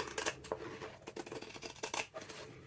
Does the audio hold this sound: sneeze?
no